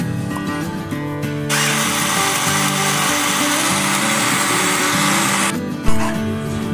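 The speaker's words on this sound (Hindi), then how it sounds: "तो अब मैं इसको पीस लूंगी।" An electric grinder whirs loudly and continuously for about four seconds as it grinds whole spices for korma masala, including black cardamom, cinnamon and star anise, then cuts off abruptly, leaving a brief clunk.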